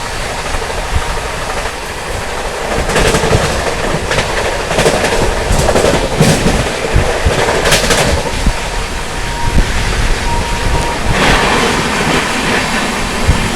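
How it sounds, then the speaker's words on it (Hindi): The Amritsar Howrah Mail passes close by on an Indian railway line during heavy rain, a loud, steady rumble with rhythmic clickety-clack of wheels over rail joints and hissing wash, continuous throughout without speech. "सामने से आ रही है आप लोगों की अमृतसर से चलकर हावड़ा की ओर जाने वाली अमृतसर हावड़ा"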